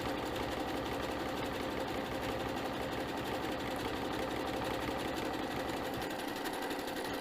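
A sewing machine runs steadily at full speed, stitching coiled rope into a bowl, its rapid mechanical chatter continuous and close throughout, with a brief slowdown near the end.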